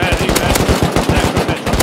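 Rapid automatic gunfire in the video game Rust, loud and close, with dense overlapping shots in a continuous burst.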